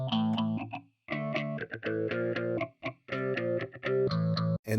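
Distorted rhythm guitar from a mix-down, playing steady chugging chords with short gaps between phrases, close and loud with no voices.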